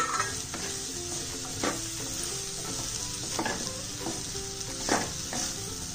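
About 250 grams of chopped okra fry in a pan with a steady, close sizzle, broken by repeated scraping strokes of a utensil stirring the pieces.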